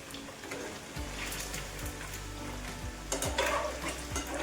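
Batti dough balls deep-frying in oil in a kadhai over a full flame give a steady, close sizzle and bubbling hiss, with a few soft knocks and a brief louder burst partway through.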